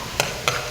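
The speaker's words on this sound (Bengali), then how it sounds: "এখন আমি পেঁয়াজ, রসুন, কাঁচামরিচ কুচিগুলো ঢেলে দেব। ঢেলে দেওয়ার পর এগুলোকে সুন্দর করে নাড়ব" Onion, garlic and green chili are stirred in hot oil in a pan, with two brief scraping strokes over a steady low frying sizzle.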